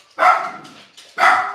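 A dog barks twice, close and loud, with each bark sharp and followed by a brief tail, about a second apart in an indoor room.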